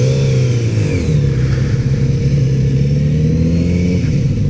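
A 2018 Kawasaki Z900RS motorcycle engine accelerates, loud and close, its smooth mid-pitched drone rising steadily through the revs with one gear shift early on.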